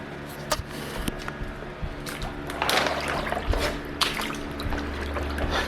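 Water trickles and drips in a crawl space flooded about six inches deep, with intermittent splashes and dribbles, close and fairly quiet, with no talking.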